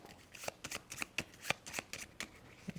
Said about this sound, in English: So I'll shuffle those up.